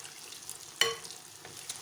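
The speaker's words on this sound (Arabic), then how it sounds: "نحطها بالزيت بهدوء، نضغط عليها على الخط" Cauliflower fritter batter is spooned gently into hot oil, giving one sudden splashy crackle that settles into a soft, low bubbling fry.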